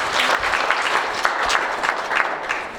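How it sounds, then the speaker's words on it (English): A round of applause from the audience at an academic nutrition evening, steady dense clapping throughout, close and fairly loud. "Let's give another round of applause."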